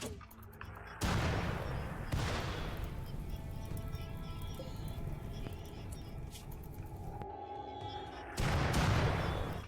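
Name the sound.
mortar shelling, from video game RimWorld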